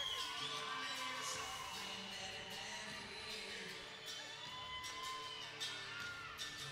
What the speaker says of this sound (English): They are up and they are cheering their man